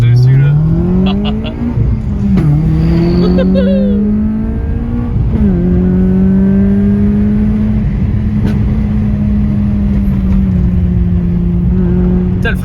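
Peugeot 106 S16 with a 140 hp engine, a loud in-car engine drone that climbs in pitch through the gears with clear shifts between them, while people talk over it.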